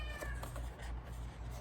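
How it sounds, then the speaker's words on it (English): An unhappy cat locked out of a room lets out a couple of loud, drawn-out meows close by, with nothing else heard. "Excuse the cat who's not happy right now."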